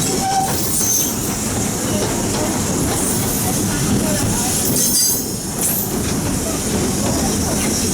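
Walt Disney World Railroad train rolling steadily along the track, a continuous rumble with wheel noise and faint high squeal and clatter, a brief whistle-like tone early on.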